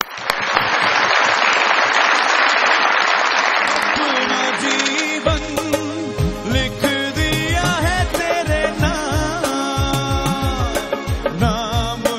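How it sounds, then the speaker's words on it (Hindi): A television comedy talk-show studio audience breaks into loud, dense applause to welcome actress Zeba Bakhtiar, then the clapping gives way to a bright musical tune that carries on alone. "बहुत सारी तालियों में वेलकम कीजिएगा अदाकारा प्रोड्यूसर डायरेक्टर मोहतरमा जेबा बख्तियार साहबा"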